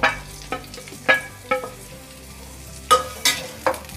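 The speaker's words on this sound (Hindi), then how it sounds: "बस हल्का सा इसका कच्चापन निकल जाए, इतना हम इसे फ्राई करेंगे।" Diced onion with green chillies frying in a pan for soya chilli: a soft steady sizzle broken by repeated sharp scrapes and clinks of a spoon stirring, close and clear with no voices.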